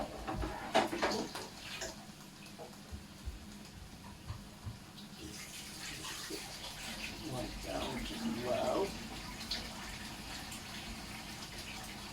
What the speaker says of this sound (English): I'll just give this knife a little quick wash